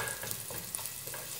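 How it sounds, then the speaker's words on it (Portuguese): Garlic sautéing and being stirred in a pan gives a steady, close sizzle with soft scraping stirs running through it, and no voices. "Aí nós estamos aqui, ó, refogando o alho pra dar uma corzinha."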